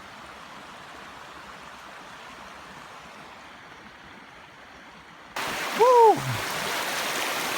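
River rapids rushing while someone wades across in trainers, first a faint steady wash, then a sudden loud close roar of water as a person whoops over it.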